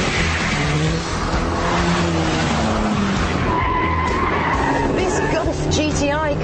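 A VW Golf GTI with a six-speed manual accelerates hard, its engine note climbing under shrill tyre squeal and skidding, loud and close for several seconds, with rising whistling tones toward the end.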